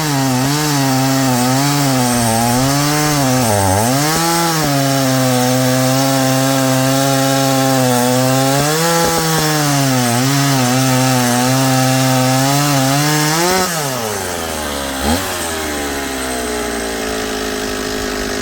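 Chainsaw fitted with a dull, improperly sharpened safety chain cutting through wood: a loud, close two-stroke engine drone that bogs and revs as the chain bites, then drops to idle near the end, with no talk.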